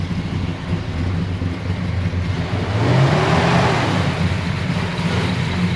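Several cars rev their engines at a rural garage car show and barbecue, a loud continuous roar with throttle surges that swell around the middle, heard without talk.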